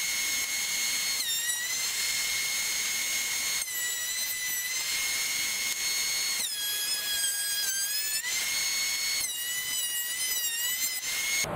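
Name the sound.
DeWalt planer flattening wood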